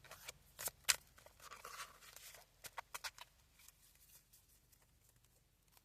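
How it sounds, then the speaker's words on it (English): A deck of tarot cards being shuffled by hand in a quiet room, a run of soft riffling flutters and crisp card slaps in uneven bursts, close and fairly faint, with no talking. "And now we shuffle."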